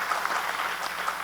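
Audience applause at a Rotary membership seminar, a brief stretch of steady, moderately loud clapping from a crowd in a hall.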